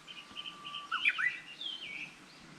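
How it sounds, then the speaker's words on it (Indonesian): Several wild birds chirp and trill in quick, bright phrases at 5:30 in the morning beside a quiet main road in rural Japan, fairly close, over a faint steady background hum. "kalian bisa dengar suara burung"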